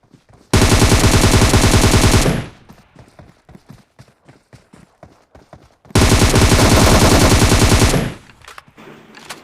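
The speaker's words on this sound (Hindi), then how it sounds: "जो आखिरी बंदा होता है वो भी फायर करने लग जाता है" Two long, loud bursts of sustained automatic gunfire ring out close by in the battle royale game PUBG Mobile, separated by a few seconds of quieter scattered shots and clicks.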